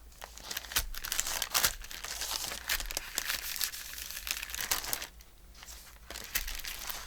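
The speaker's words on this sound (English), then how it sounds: "I grabbed a little bit of wax paper." Wax paper crinkling and crumpling as it is pressed to blot wet ink on dictionary pages, a steady run of close crisp rustles and crackles with louder bursts, no talking.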